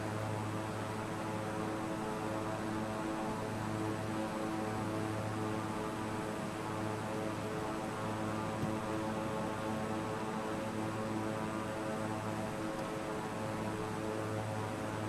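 Airplane engine in a flight simulator game during a landing approach, heard as a steady, even propeller-like drone with a constant hum that holds throughout without change and no voices.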